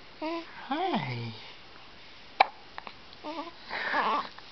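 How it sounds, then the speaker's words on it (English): A baby boy gives a few small hiccups between soft babbling coos and short breathy noises, close and fairly quiet. "Do you have the hiccups?"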